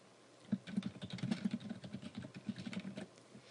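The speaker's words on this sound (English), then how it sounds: "type the entry name" Keys on a computer keyboard clatter in a quick, steady run of soft close taps for a few seconds, with no talking over them.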